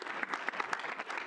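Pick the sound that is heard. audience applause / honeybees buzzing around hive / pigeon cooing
audience applause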